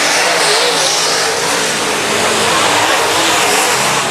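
Race cars circling the quarter-mile Valley Speedway oval, a loud continuous engine roar from nearby with revving that rises and falls as the cars pass.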